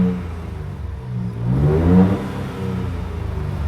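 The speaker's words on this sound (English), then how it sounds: "listen, on startup, because there's nothing like this roar that this Raptor makes" A Ford Raptor's engine fires up with a short throaty rev that swells to a peak and then settles into a steady rumbling idle, close and fairly loud, with no talking.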